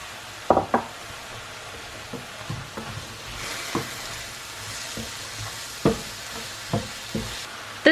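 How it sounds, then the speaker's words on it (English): Onions sauté in a pan with a soft, continuous sizzle, broken by sharp clinks and scrapes of a utensil stirring at irregular intervals, close and fairly quiet. "And we're gonna saute these for 5 minutes. All right, now we're going to add our onions."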